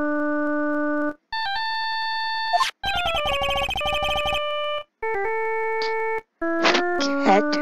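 Electronic mobile phone ringtone from the Phoenix Wright: Ace Attorney – Justice For All game, a bright synthetic melody of sustained tones broken by short pauses and a fast trilling passage, loud and clear with no speech.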